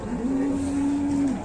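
A raging cow lets out a single loud, sustained moo lasting over a second, close by, with crowd and outdoor noise faintly underneath.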